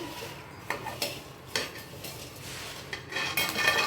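Soaked chickpeas being roasted and stirred in a pan, with a continuous dry rustle broken by several sharp scrapes and clinks of a utensil against the metal.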